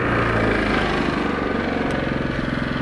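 A Yamaha YT-660EDJ snow blower engine running near at a steady idle, a loud continuous mechanical drone with a faint rhythmic pulse toward the end, no speech.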